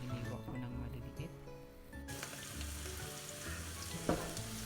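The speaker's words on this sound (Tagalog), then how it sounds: "Then, sunod natin natin ang sibuyas or onion" Finely chopped onion sautéing in a pan for a Filipino misua dish with luffa, a steady close sizzle with a few faint clinks, one sharper knock near the end.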